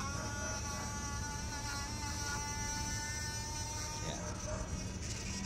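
An ABS hydraulic declogging tool vibrates during a bench test, giving a steady close buzz with tonal harmonics that runs throughout, and a brief voice is heard over it.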